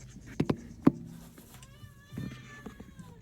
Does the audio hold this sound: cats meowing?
yes